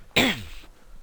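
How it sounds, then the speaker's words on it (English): A single harsh cough, or throat-clearing, bursts out close and loud, then fades quickly into quiet background noise. "Oh, I do apologise for this cough."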